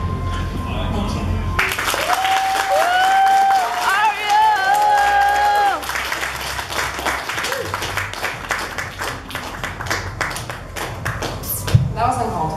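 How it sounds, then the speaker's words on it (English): Audience applause and cheering after a valedictorian's graduation speech at a 2016 school ceremony, a dense, sustained wash of clapping with a voice over it early on, then thinning into scattered claps. "One more round of applause"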